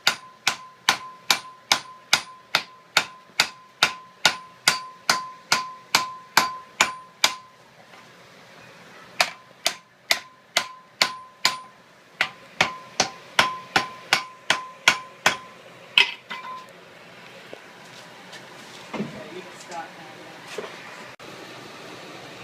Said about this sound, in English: What we're going to try to do here now is start doing some welds. Doesn't need to be anything super hard. Just nice firm hits.